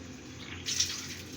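Water pours into a cooking pot for Lahori bong paya, a steady close splashing stream that swells briefly midway before settling into a continuous flow.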